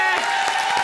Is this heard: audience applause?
yes